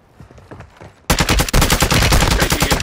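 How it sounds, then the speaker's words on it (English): Rapid machine-gun fire in a military shooter video game: quiet scattered shots, then a sudden loud, sustained automatic burst with a brief break before it resumes and continues to the end. "Taking effective fire."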